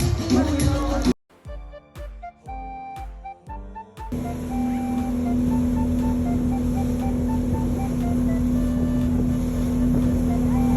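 A steady boat engine drone and hum carrying passengers on a ride, loud and continuous after a brief musical interlude, with people talking over it.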